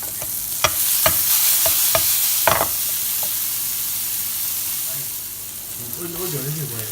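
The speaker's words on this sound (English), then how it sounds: "yellow pepper that is steaming away" Yellow pepper steaming in a hot pan for stuffed peppers, a loud steady sizzle broken by sharp stirring clicks early on, with a voice starting to speak faintly near the end.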